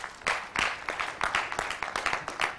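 Light audience applause at a Vanderbilt University talk, a short burst of scattered hand claps lasting a couple of seconds, fairly close and moderately loud.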